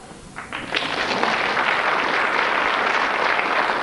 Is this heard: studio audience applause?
yes